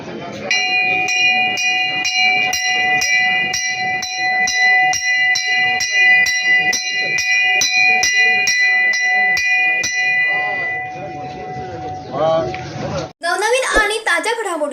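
Bells ring in a steady, rapid rhythm at a protest outside the tehsil office in Junnar, each strike ringing close and loud for about ten seconds before voices take over at the end.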